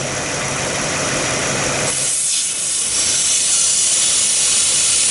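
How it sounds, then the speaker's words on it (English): Air leak hissing into the intake of an idling Lincoln LS engine, a loud continuous rushing hiss that shifts in tone partway through over the steady engine hum. "So I'm going to create the air leak."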